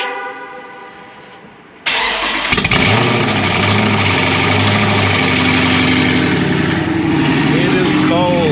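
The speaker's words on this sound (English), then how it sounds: "We're gonna get a little cold start for you on the 392." A Dodge Scat Pack with a 392 V8 running on E85 fires up from cold after a quiet lead-in, the starter catching into a sudden loud, deep rumbling idle that holds steady up close.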